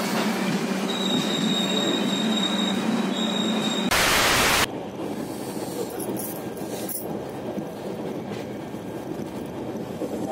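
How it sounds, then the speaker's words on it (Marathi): An express train at a station platform rumbles loudly with a thin high wheel squeal, then a brief blast of noise before a steady, heavy roar continues. "1 नंबर प्लॅटफॉर्मला ट्रेन आलेली आहे आणि जास्त वेळ थांबणार पण नाही ट्रेन"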